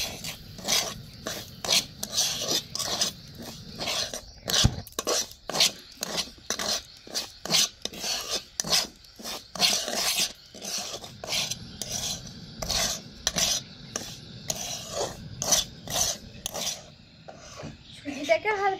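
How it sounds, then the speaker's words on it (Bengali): Semolina stirred and lightly toasted in a pan gives rhythmic rasping scrapes of a spoon against the pan bottom, repeated quickly and steadily at close range, with faint voices now and then. "এবার আমি সুজিগুলোকে ভালো করে মিশিয়ে নেব।"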